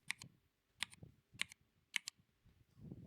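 Simulated mechanical keyboard typing from Mechvibes software: quiet clusters of crisp key clicks in an uneven rhythm, close by, with short pauses between bursts.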